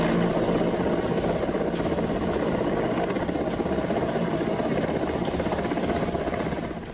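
An Indian Air Force helicopter hovering over a dam during a rescue, a loud, steady rotor and engine roar filling the whole stretch, continuous and close, fading slightly at the end.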